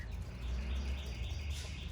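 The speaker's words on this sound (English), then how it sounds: "I think the birds approve." Faint bird chirps from a distance over a steady low outdoor rumble.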